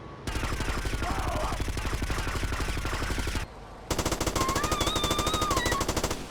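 Rapid, sustained Mac-10 submachine gun fire on foot in GTA Vice City, loud and continuous, with a short pause before another burst joined by high whistling tones.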